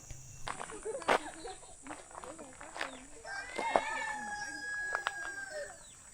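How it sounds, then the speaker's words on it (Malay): A wild jungle fowl crows somewhere in the mountain forest of Gunung Besar Hantu, a distant, fairly faint call rising through the background, while hikers talk and footsteps shuffle close by. "Tu ayam. Ayam hutan."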